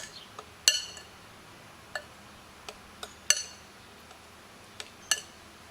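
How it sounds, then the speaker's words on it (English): A spoon mixes a fruit salsa of mango, jalapeño, lime juice and cilantro in a bowl, giving a handful of sharp, bright clinks against the bowl spread through a quiet stretch, with no talking. "So we're going to mix all that up."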